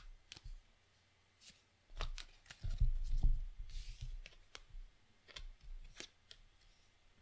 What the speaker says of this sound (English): I shuffled and I pulled from various parts in the deck.